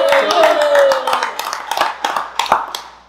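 A small group around a table claps for a military veteran at a bourbon tasting, starting strong and thinning into scattered individual claps, with some voices mixed in.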